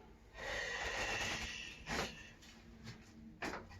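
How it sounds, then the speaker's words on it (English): A patient breathing in and out during a chiropractic adjustment of the thoracic spine, a long close inhale followed by sharp, audible exhales, with no talking. "So take a breath in and out."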